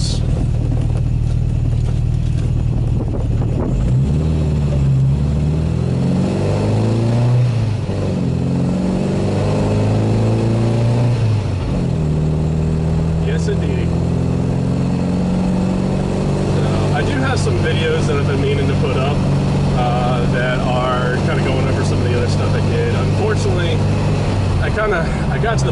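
A 1974 MGB-GT drives along and accelerates, its mid-pitched engine rising and falling through gear changes in a steady, loud cabin drone, with a voice talking over it.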